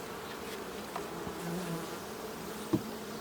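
Honeybees hum steadily around an open, queenless hive during late-summer requeening, a faint, even drone with a brief louder thump near the end.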